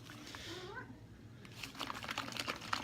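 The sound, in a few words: cats freaking out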